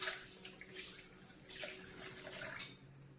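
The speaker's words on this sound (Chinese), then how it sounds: "鸡翅先用清水解冻" Tap water runs steadily into a sink as chicken wings thaw under it, a soft continuous splashing with a few faint knocks.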